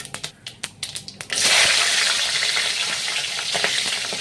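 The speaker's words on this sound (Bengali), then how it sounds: "আর এখন ফোড়ন দেব গোটা জিরে আর কয়েকটা কাঁচা লঙ্কা।" A quick run of rhythmic taps is followed by a sudden loud hiss as whole cumin and green chillies hit hot mustard oil, then a steady, crackling sizzle that continues close to the mic.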